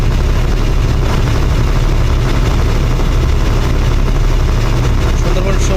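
Steady, loud low-frequency drone of the engines aboard the Sundarban-16, a large passenger launch cruising at 11-12 knots from Dhaka toward Barishal, heard from the stern area near the thrusters, continuous and unbroken with a voice talking over it.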